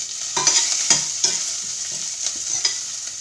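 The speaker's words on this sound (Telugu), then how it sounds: "గ్రీన్ చిల్లీస్ వేస్తున్నాను." Green chillies sizzle in hot oil in a pan, a steady bright crackle with occasional stirring scrapes, close and continuous with no voices.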